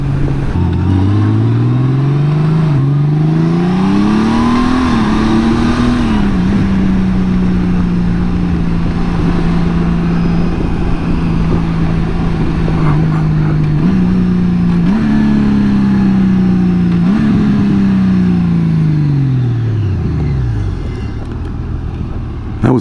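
A motorcycle engine roars close up, its pitch climbing through several gear shifts, holding steady at speed, then rising again before easing off.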